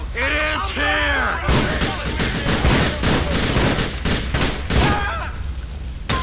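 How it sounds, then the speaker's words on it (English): Sawed-off shotgun blasts in The Lost and Damned, a burst of heavy, rapid gunfire with sharp repeated bangs over a dense battle din, with shouting voices and game music in the mix. "Seriously, is this a sawed-off shotgun or not?"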